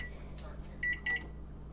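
Two short electronic beeps from a kitchen oven timer, close and clear, with a brief pause between them, over a low steady hum and faint background voices.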